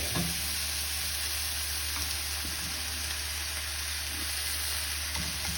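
Spicy chicken thighs sizzle and fry steadily in a cast iron skillet as they are basted, a constant close hiss with a few faint clinks and no talking.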